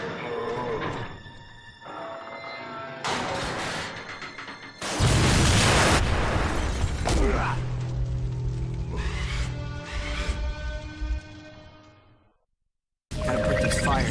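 In the Spider-Man 2 video game, Rhino wrecks a gas station and sets off an explosion, heard as loud bursts and rumbling booms amid dense game effects and score, before a short silence and a sudden return of sound.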